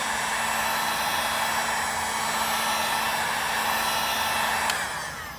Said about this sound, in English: make a few passes with the heat gun, try to melt that adhesive, get it hot again.